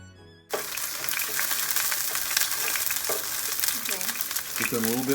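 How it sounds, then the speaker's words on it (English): Green onions hitting hot olive oil in a pan on a stove burner, a sudden loud sizzle that starts after a brief quiet moment and keeps crackling steadily, with soft scraping and clinks of a utensil near the end. "we're gonna first fry up the green onions"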